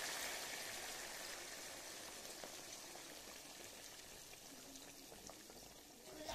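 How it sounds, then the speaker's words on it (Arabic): Boiled water pours steadily onto a chicken in a cooking pot, making a soft, continuous hissing splash that stays fairly faint and even throughout. "الميه غليت، هقوم ضايفه لها ميه مغليه"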